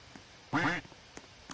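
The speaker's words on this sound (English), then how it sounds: "Duck, come here, bro." A single short, nasal duck quack from a video game, loud and close, standing alone against near silence apart from a few faint ticks.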